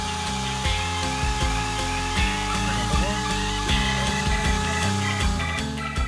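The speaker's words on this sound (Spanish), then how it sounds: "Taladro, broca y yo sujeto." A power drill whines in repeated bursts, its pitch rising and falling as it bores, heard up close against a busy background.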